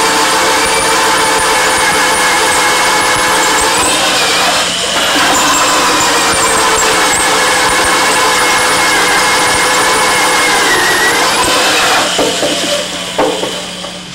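A power drill whines steadily and loudly for a long stretch while boring through a composite block of carbon, glass and aluminum, its pitch dipping briefly as it bites, then winding down at the end.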